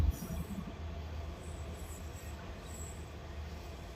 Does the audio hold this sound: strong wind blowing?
no